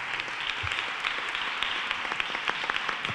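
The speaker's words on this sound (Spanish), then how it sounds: "Así que Fran, un aplauso para él, por favor." An audience applauds steadily at a book presentation, a dense wash of clapping hands throughout with no voices on top.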